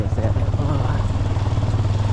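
A motorcycle carries riders along village roads on the way back from Sati Dada. Its engine holds a steady, close, low hum under rushing wind for the whole moment.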